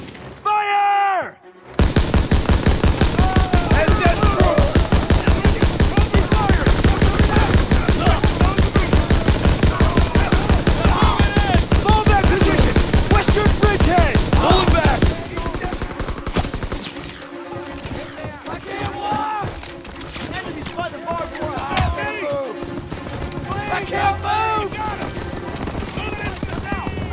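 Sustained machine-gun fire in the Call of Duty WWII story mission Death Factory, a dense, rapid, loud stream of shots lasting well over ten seconds, then thinner scattered fire under shouting voices and battle noise.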